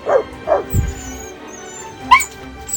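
A puppy in a farm room gives a few short yips and whimpers, with a low thud partway through and a higher whine near the end, fairly close and intermittent.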